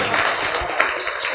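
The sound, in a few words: audience applause at a mushaira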